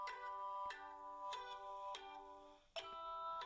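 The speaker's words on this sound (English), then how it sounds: "I'm getting a phone call." Phone ringtone for an incoming call: a chiming electronic ring repeating about every 0.6 seconds, fairly quiet and alone with no talk.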